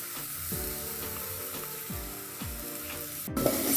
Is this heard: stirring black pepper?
yes